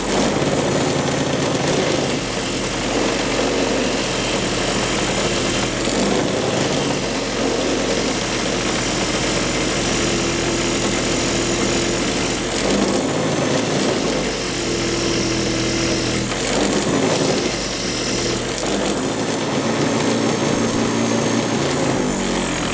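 A soft wire wheel stripping rust from an old steel part makes a loud, continuous motorized whir and grind, close and unbroken, with no voices.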